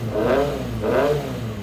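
A turbocharged Subaru BRZ with an aftermarket exhaust pulls hard in second gear, its engine note rising in two surging sweeps, loud and close, with no talking.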